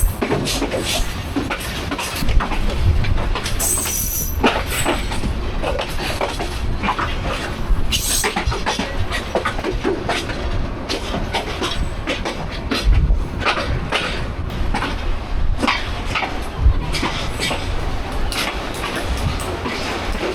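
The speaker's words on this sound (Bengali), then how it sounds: "আমাদের ট্রেন 9:55-তে গফরগাঁও রেল স্টেশনে প্রবেশ করলো" Jamalpur Express night train rolling into Gafargaon railway station, a dense, steady rumble of wheels with metallic clatter and clanks running throughout, fairly loud and continuous with no speech.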